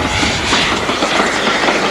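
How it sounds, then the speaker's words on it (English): A train runs at speed along a double-track main line, a dense continuous rush of wheel and rail noise with a steady clickety-clack, loud and close. "running steam locos at speed on the double-track section"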